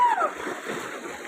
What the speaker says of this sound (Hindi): देखो ये भाई, देखो पानी में साइकिल चला रहे हैं